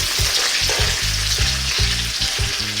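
Fresh pandan leaves and curry leaves hitting hot oil over above-medium heat for a Sri Lankan dish, a loud, dense crackling sizzle with a steady hiss and rhythmic low stirring thumps, close up.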